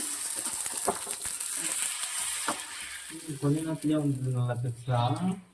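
Carrot, dried chili and cumin frying in a pan, giving a bright continuous sizzle with a few stirring clinks, while someone talks over the last few seconds.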